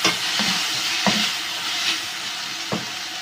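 Soy sauce being stirred into chicken chow mein in a hot pan, a short burst of soft sizzling with a few sharp scrapes and knocks of the utensil, close by and free of speech.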